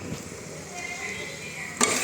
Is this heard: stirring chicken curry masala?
yes